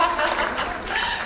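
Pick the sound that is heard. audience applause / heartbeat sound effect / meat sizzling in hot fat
audience applause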